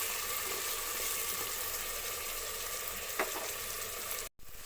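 Tomatoes frying in a pan with salt get stirred, giving a steady, fairly faint sizzle with a brief scrape of the spoon and a short clatter near the end; no talking.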